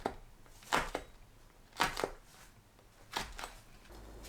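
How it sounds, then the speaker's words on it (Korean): Three sharp, crunchy fork stabs into a firm red chili, spaced about a second apart, in a quiet room. "홍고추는 포크로 구멍을 뚫어주세요."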